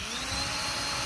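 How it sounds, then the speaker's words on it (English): A power drill boring a small pilot hole near the end of a piece for a 20-gallon parts washer, whining in one loud, steady burst at close range. "Let's bore a wee pilot hole."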